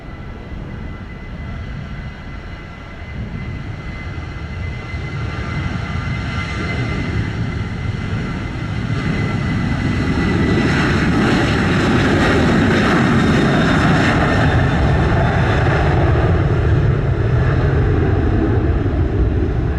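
A Sunwing jet airliner takes off from runway 07 at Sangster airport in Montego Bay, Jamaica, its engine roar building steadily into a loud, sustained rumble with no talk.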